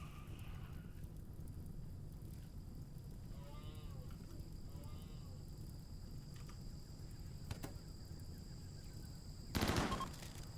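Turret gunfire in RimWorld, heard as a few sparse shots over a steady ambient bed, then a short, sharp burst of fire near the end.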